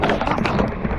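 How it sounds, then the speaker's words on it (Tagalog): Heavy rain pouring steadily on a fishing scene, a dense, loud hiss of drops with no talk over it. "Lakas lang ulan."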